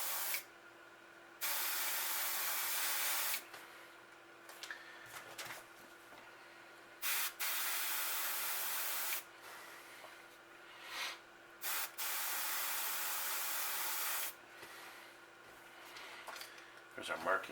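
White spray paint hissing from a can over a 3D stencil pattern in several sharp bursts of a second or more, separated by short quiet gaps, close and fairly loud.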